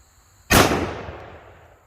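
A single loud, sharp 10mm pistol shot fired from a 1911 with Fort Scott Munitions TUI 125-grain ammunition, close by, with a long ringing decay and no talk.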